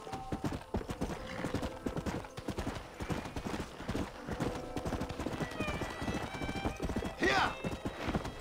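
A horse galloping in a cowboy video game: brisk, steady clip-clop hoofbeats with a whinny near the end, under someone talking.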